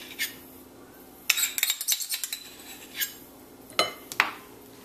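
A spoon stirs raw chicken livers dressed with black pepper, salt and ketchup in a metal bowl, giving a run of close, sharp clinks and scrapes with short gaps between strokes.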